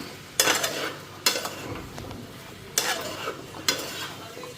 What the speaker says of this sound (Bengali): এখন একটা লাড়া দিয়া ঢাকা দিয়া থুয়ে দেব